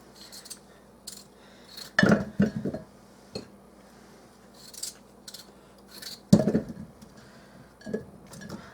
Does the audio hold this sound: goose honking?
no